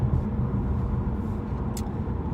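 A car is driving on the road on a warm winter day, heard as a steady low rumble of engine and road noise from inside the car, with no breaks and no one speaking.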